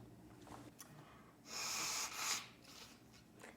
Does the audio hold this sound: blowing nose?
yes